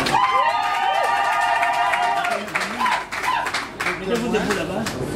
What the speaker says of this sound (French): Applaudissons pour les signatures.